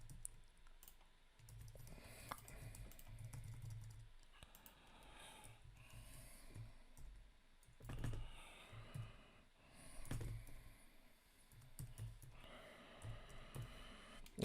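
Someone types on a computer keyboard to fill in CSR certificate details, with quiet bursts of clicking keystrokes separated by short pauses. The typing is faint and close, with no talking.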